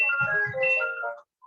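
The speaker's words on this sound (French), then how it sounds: "on va laisser le téléphone s'arrêter." A telephone rings in a room with a melodic electronic ringtone, layered tones playing for just over a second before cutting off, with a faint low knocking underneath.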